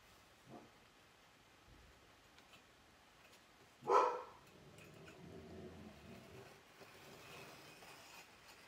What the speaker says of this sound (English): My dog must hear the neighbors.